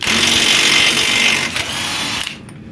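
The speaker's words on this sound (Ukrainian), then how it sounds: "Якщо ж хоча б якийсь акумуляторний гайковерт, то можете зробити, як я." Cordless impact wrench loosening a rear wheel nut on a Ford Focus 1, a loud close whirring rattle for about two seconds that stops abruptly as the nut comes free.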